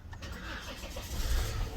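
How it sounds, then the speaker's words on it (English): A Volvo car engine (S80, S60, V70, V60, XC70 or XC60) cranks and catches, a low rumbling start that settles into an idle, heard from inside the car. "Start the car."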